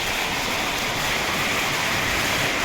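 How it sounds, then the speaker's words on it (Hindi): Steady, dense rain pours during the rainy season, a loud continuous wash of hiss with no breaks and no voices. "बारिश का मौसम है, बारिश की आवाज़ें हैं।"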